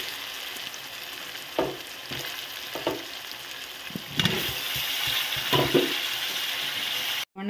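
Bottle gourd pieces fry with onion, tomato, green chilli and ginger-garlic paste, a steady sizzle with occasional louder stirring scrapes and bursts, cutting off abruptly near the end.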